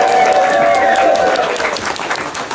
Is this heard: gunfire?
no